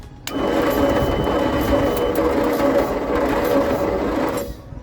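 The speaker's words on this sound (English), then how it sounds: "I'll spin this engine over and see if I can see spark in the dizzy" A Leyland cab-over truck engine cranks over steadily for several seconds with a fast, even whirring churn, then stops abruptly.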